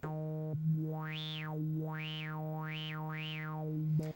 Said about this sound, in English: You can hear that the filter opens up.